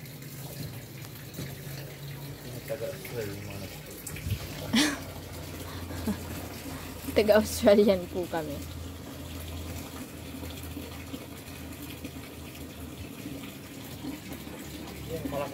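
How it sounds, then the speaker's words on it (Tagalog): A strong waterfall on a farm rushes in a steady, continuous wash of water, with occasional brighter splashes. Someone talks over it. "Malakas yung falls natin."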